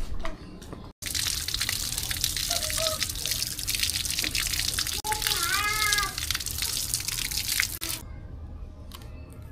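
Mangoes are washed under a running tap, and a steady loud gush of water fills most of the stretch while a cat meows in short calls over it.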